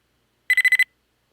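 A quick run of five short, bright electronic beeps from a video game robot spider waking up, in even rhythm, close and clear, then silence.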